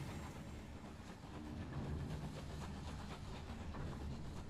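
A train rolls past in the video game Night In The Woods, a steady rumbling clatter of wheels on rails that swells slightly and holds, fairly close and continuous.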